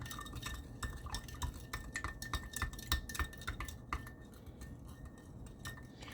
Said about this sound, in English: you give it a good stir